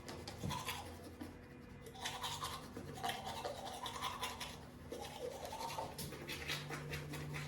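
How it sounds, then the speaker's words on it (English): Teeth being brushed with a toothbrush, with close, quiet, rhythmic scrubbing strokes repeated in bursts and no talking. "So I'm gonna brush my teeth while I have this mask on my face"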